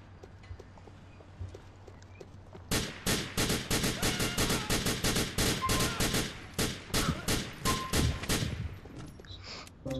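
Rapid bursts of video-game gunfire in GTA, including M4 rifle shots, start after a quiet few seconds and then crack in dense, rhythmic volleys with brief gaps, loud and close.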